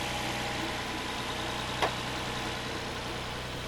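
A 1993 Nissan Fairlady Z with its VG30DE V6 idles steadily, a close, even low hum with one brief click partway through.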